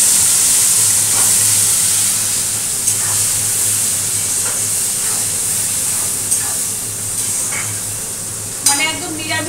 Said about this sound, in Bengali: এইবার দিয়ে দেবো হচ্ছে পেঁয়াজ কুচি।